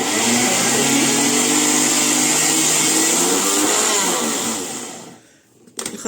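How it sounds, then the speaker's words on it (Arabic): An electric blender's grinder mill attachment whirs loudly and steadily for several seconds, then the motor winds down and stops, followed by a few clattering knocks. "فبطحنها في المطحنه بتاعت الخلاط"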